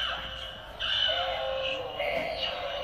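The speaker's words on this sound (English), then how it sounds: "Oh, look, the crow came out." Halloween decoration crow giving out a synthetic, buzzy caw call, repeated twice over a steady electronic hum, near and moderately loud.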